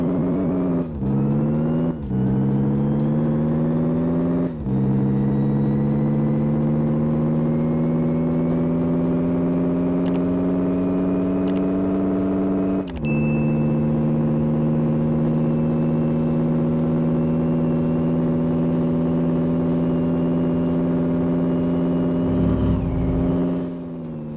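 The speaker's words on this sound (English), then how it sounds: "Let's go for a little bit of a joyride in our newly complete BMW" A BMW in My Garage revs hard and pulls away, its engine note climbing through several gear changes in a long loud steady drone, with brief dips at each shift and no talking.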